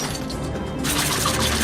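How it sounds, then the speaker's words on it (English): Glass being smashed and crushed in a movie scene, a loud, dense crunching that starts mid-clip and continues in a steady grinding rattle over a low background. "He's breaking glass, mashing it up."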